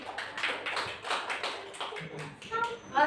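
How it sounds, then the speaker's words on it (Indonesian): Primary school pupils in a grade 5 classroom clap for a classmate group after their presentation, a brief patter of small hands with uneven taps, and a voice and teacher talk mixed in, ending in a few louder taps. "Tepuk tangan untuk teman kalian."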